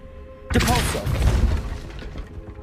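A Depulso force spell goes off in Hogwarts Legacy as a sudden loud whooshing boom with a shattering crackle that fades over about two seconds.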